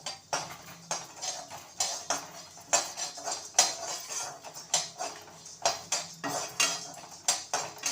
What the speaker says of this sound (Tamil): இதே வானலியில் நிலக்கடலை நல்லா தோல் உரிச்சிருந்த நிலக்கடலையை வறுத்து எடுத்துக்கலாம்